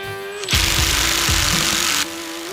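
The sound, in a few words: cordless drills driving deck screws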